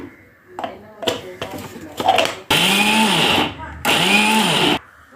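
An electric mixer grinder coarsely grinding lentils for samosa keema, running in two loud, steady whirring bursts of about a second each, after some clatter of loading the jar.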